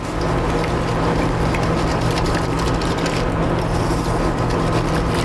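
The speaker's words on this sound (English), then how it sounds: "So we're just gonna whisk this together really quickly" A buttermilk mixture being whisked briskly in a bowl, a loud, close, continuous rattling scrape that runs without pause for several seconds, with no voices.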